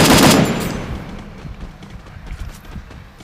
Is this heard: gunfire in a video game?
yes